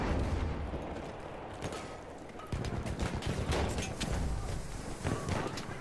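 Rapid gunfire in the video game Battlefield, bursts of shots and booms crowding together in a busy, loud battle mix that carries on throughout.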